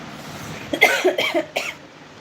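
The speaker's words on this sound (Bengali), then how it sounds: "গান করতে কি কাশি পেয়ে গেল" A person coughs several times in quick succession during a casual live singing session, close and fairly loud, with near silence before and after.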